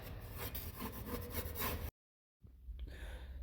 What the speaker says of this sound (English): lightly scrape off any of the high spots